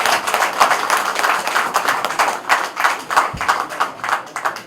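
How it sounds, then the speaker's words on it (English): A crowd at a customs office gathering claps in uneven, rippling bursts that swell and ease in waves, fairly close and moderately loud, with no speech over it. "So come on, give him a round of applause."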